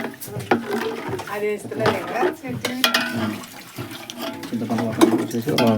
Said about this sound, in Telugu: మిక్సీ వాటర్ అయితే పోసేస్తున్నాను.